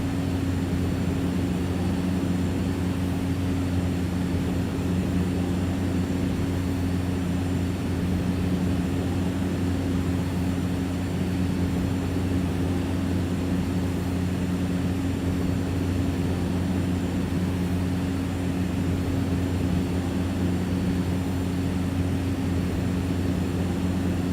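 Cessna C208 Caravan propeller engine in the X-Plane flight simulator, a loud, constant cockpit drone with strong low tonal hum and steady airflow noise, no talking.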